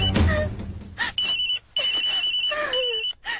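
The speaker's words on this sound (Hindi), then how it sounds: "मोहिनी फोन नहीं उठा रही" Telephone ringing in a tense Hindi film scene, an electronic two-tone ring in repeated bursts with brief gaps, loud and close, over faint background voices and movement.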